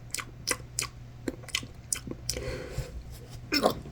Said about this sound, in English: People that chew with their mouth open.